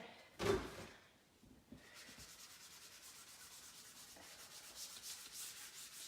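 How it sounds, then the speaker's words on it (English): A countertop item being rubbed clean with a Clorox wipe, a soft close swishing scrub that follows a brief louder bump, continuing steadily and faint; no talking. "I'm gonna take a Clorox wipe. And I'm gonna wipe it down to clean the top just a little."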